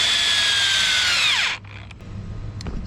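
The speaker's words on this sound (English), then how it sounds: "I'm going to screw them into this board here, as well as this one here." A power drill whirs steadily while driving screws into wooden boards for a DIY kayak storage rack, running loud and close for about a second and a half before winding down and stopping, leaving a faint room hum.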